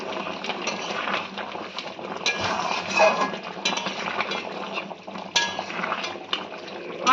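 A spoon stirs chopped green chillies and salt into lemon chicken in a pan, with soft continuous scraping and occasional clinks of utensil against metal and no talking.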